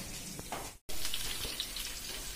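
Chicken sandwich filling frying in a pan and stirred with a spatula: a steady sizzle with scattered crackles, close by, broken by a brief moment of silence partway through.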